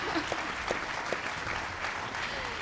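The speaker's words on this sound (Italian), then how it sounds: "Un applauso all'opera lirica!" Steady applause from a crowd at a gala piano competition concert, a dense continuous patter of clapping at moderate distance.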